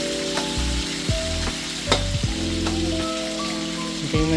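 Oil sizzles steadily in a pan while ingredients fry until golden brown for misua soup, with a continuous close crackle and occasional clinks and scrapes of stirring, no voices.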